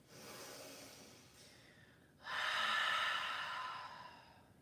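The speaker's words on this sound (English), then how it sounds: "Deep inhale. Open mouth, exhale." During a yoga class, a slow, soft breath drawn in through the nose is followed by a louder, breathy open-mouthed exhale that gradually fades, close and with no talking.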